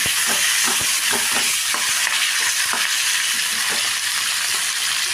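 Tomato and asafoetida fry loudly in a pan for a katla fish curry, a dense steady sizzle broken by a few scraping stirs, with no voices.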